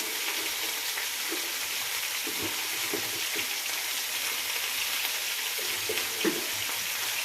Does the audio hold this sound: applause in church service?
no